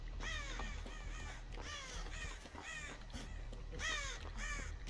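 Crows caw repeatedly in harsh, rhythmic bursts over a steady low background hum, loud and close, in the video game Dead by Daylight.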